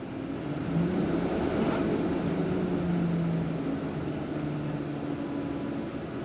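A V10 RV engine revs while parked, a steady low droning rumble with a gentle swell in the middle, moderately loud and continuous, with no talking.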